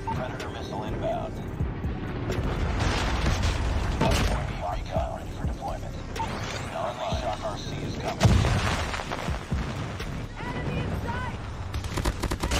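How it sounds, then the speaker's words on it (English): A Call of Duty match rumbles with a predator missile air strike amid dense gunfire and booming impacts, a heavy blast landing near the middle, while players talk over the din. "Friendly air strike incoming. Predator missile inbound."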